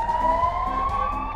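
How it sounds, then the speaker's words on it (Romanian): A police car siren wails steadily from a passing car on a street in Romania, loud and close, with traffic rumble underneath. "Poliția trece."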